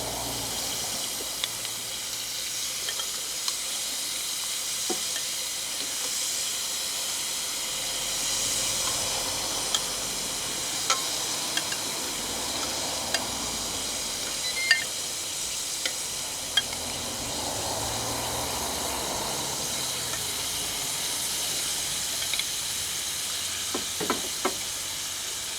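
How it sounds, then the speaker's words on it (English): Prawns cooking on the residual heat of an outdoor grill after steak produce a faint, steady hiss and sizzle, broken by occasional small pops and clicks. "on the residual heat, we will get the prawns done"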